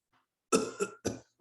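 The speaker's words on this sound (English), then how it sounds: "I'm still coughing" A short burst of three close coughs, the first strongest, in quick succession against silence.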